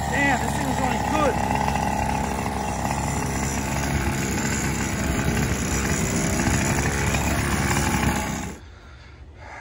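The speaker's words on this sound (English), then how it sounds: "This engine just wants to run" Brovan Reedcase 45cc gas engine running in a Baja Max-T RC truck, a loud, steady, buzzing two-stroke drone held for about eight seconds, then cutting off abruptly.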